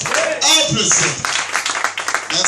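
Audience applause breaks out during a priests' prayer vigil, a burst of dense clapping with voices talking over and between the claps.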